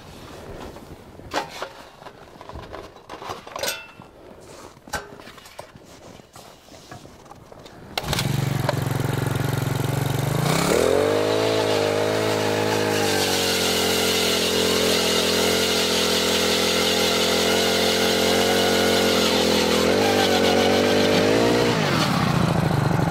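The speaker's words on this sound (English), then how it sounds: "we're going to drill a hole real quick, measure the ice" A motorized ice auger roars into life after quieter handling noises, then drills through early-season lake ice near Park Rapids, Minnesota, with a loud, steady whine that holds for about fifteen seconds before easing off.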